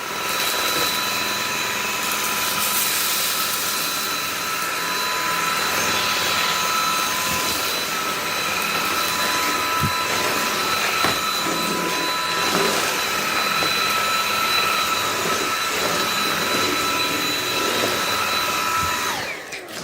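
A Dyson V8 cordless vacuum fitted with the fluffy hard floor cleaner head runs steadily and loudly throughout, a continuous high motor whine with bright tonal hum and faint debris rattles, with no talking.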